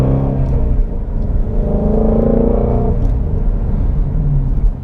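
A 2017 Ford Mustang GT350 engine rumbles loudly and steadily with throaty exhaust in sport mode, rising briefly as it revs, close by and with no talking.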